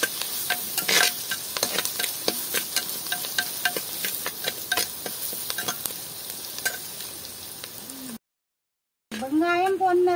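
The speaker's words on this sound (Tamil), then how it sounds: "ரெண்டு செத்தல் மிளகாயும் பட்டி போட்டு வெங்காயத்தை பொன்னிறம் வர மட்டும் வதக்குங்க" Sliced onions and two dried red chillies sautéing in a pan for village-style upma, a loud continuous sizzle with scraping stirring strokes and a short break near the end.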